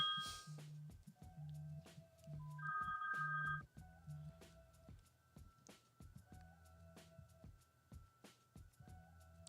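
A phone call rings out through a calling line before voicemail picks up, with repeated low ring pulses and a few brief electronic tones, fairly faint and steady with no talk over it.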